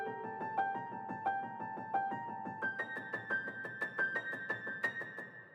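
A soft piano layer from a cinematic orchestral track plays a steady stream of repeated notes with a sustained melodic line above, quiet and even in level.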